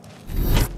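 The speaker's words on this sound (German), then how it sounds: "Hört das Auto knackt sogar." A short creak and scrape of a car body in the video game Mafia 3, rising quickly then fading, close and fairly quiet, with no voices.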